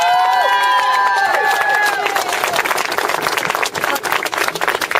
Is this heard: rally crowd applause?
yes